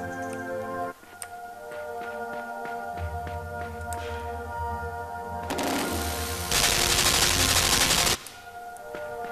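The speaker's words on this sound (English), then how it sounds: "Those are guns, aren't they?" Gunfire in the dark platformer Limbo, with sharp clicking shots and rattling bursts over a droning tonal background, building to a loud dense burst of noise near the end. No one talks.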